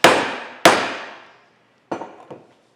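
Hammer blows drive a tapered strap bolt into a steam locomotive connecting rod: two loud ringing strikes about half a second apart, then after a pause two lighter, shorter taps, with no talking.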